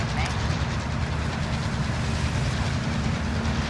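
A train rolls along rails in Call of Duty: Warzone, giving a steady, continuous rumble with faint rhythmic clatter throughout.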